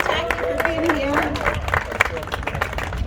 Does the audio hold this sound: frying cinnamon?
no